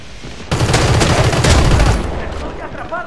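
Loud bursts of rapid gunfire in the video game CrossFire erupt after a brief lull, rattling continuously for about two seconds before easing off.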